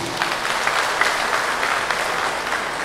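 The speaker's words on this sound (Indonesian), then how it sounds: "Kita aplaus untuk Pak Muslimin" An audience at a live event applauds for Pak Muslimin, former Golkar Party chairman of Enrekang Regency, with steady, dense hand clapping from a sizeable room, even and sustained throughout.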